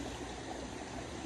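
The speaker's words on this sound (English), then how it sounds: "I also don't know if you can hear me because of the waterfall behind me" A waterfall pours steadily behind someone outdoors, giving a faint, even rushing of falling water with no other sounds on top.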